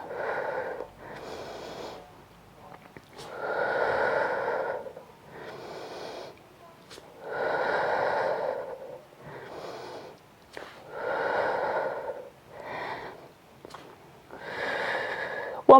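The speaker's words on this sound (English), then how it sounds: "Breathing out, breathing in." Slow, deliberate breaths in and out during a Pilates hip exercise, about five long breathing cycles in a steady rhythm, close and fairly soft, with no talking over them.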